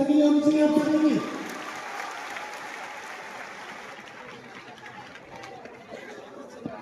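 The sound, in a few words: audience applause for a guest at a seminar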